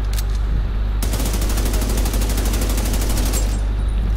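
Rapid enemy automatic fire in The Division 2 rattles out loud and close, a fast even stream of shots running for several seconds over a low rumbling background.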